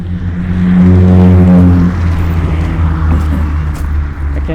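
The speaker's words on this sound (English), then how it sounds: "I can't tell if it's a truck or if it's a diesel engine of a locomotive." A loud diesel truck engine drones past close by at night, its deep rumble rising and then fading as it moves away.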